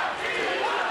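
Boxing arena crowd during a tough, grinding bout involving Shaxobiddin Zoirov, a steady wash of murmuring and roaring that holds at an even level throughout the short moment.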